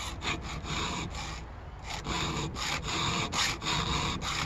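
A file rasps back and forth across a chainsaw chain being sharpened into a ripping profile, about eight firm, evenly spaced strokes, close and loud with no talking.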